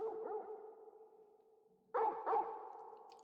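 A dog barks in Final Fantasy 16 in a quiet scene, giving two sharp close barks near the end after a low whining, sonar-like tone.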